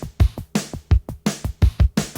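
Unmixed multitrack stems of a song play as a raw, dry drum pattern of quick kick and snare hits in a steady driving rhythm, close and fairly loud.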